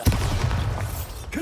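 A Bombarda blasting spell in Hogwarts Legacy goes off as a loud, low booming explosion near the start, then rumbles on for over a second with a short crackle at the end.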